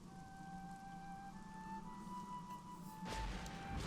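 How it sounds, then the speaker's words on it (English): Rain and thunder in the video game Child of Light: a soft patter of rain sits under gentle sustained music, with a sudden low rumbling burst near the end. "There's like thunder and lightning and rain pouring down."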